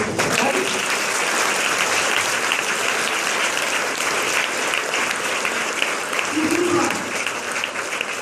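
Steady applause from an audience at a motivational seminar hall, continuous dense clapping held at an even level throughout, with faint voices mixed underneath.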